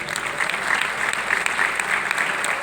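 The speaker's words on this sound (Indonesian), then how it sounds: "Beri tepuk tangannya." Steady applause from an audience at a high school graduation in a hotel in Gresik, many hands clapping evenly throughout, moderately loud with no break.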